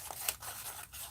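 Paper being cut with scissors during an art project, a few short snipping and scraping strokes close by, with a brief sharper cut early on and no talking.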